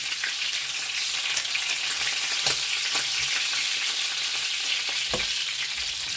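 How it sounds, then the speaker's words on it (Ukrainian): Meat fries in a pan with a steady close sizzle and hiss, broken by a few soft clicks and stirring knocks, no voices. "вже коли м'ясо майже підсмажилось"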